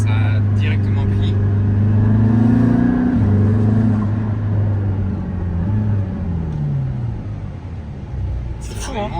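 An Aston Martin Valhalla hypercar pulls away in second gear, its engine note loud and close, climbing steadily in pitch with brief dips at gear changes, a continuous deep roar throughout.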